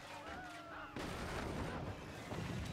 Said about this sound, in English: I don't care if they die soon, just keep shooting at them